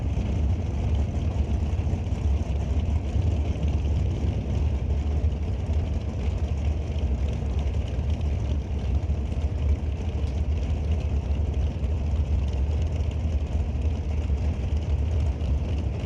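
A supercharged drag racing dragster engine sits at Mission Raceway Park during an NHRA event, producing a continuous loud, low, rumbling drone that holds steady throughout without any sharp revs.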